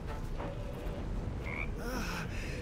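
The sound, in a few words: frog croaking, from the video game Baldur's Gate III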